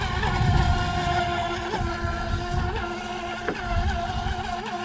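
A WLtoys WL912-A self-righting RC speedboat races past on a lake, its small motor giving a high, buzzing whine that swells and fades at moderate volume, with no talking.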